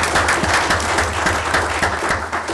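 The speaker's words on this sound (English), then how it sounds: "Applause." A city council meeting audience claps steadily after a proclamation, a continuous, moderately loud wash of applause throughout with no talking.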